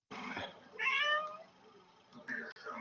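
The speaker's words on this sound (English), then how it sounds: "you're also going to hear the cat" A house cat meows in a few clear, drawn-out calls beside the fizzing of home brew, with a voice talking faintly in the background.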